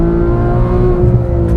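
A 2015 Porsche 911 GT3 (991.1) engine pulls hard under acceleration, a loud, steady, close engine note with strong harmonics that holds for the whole short burst, with no voices.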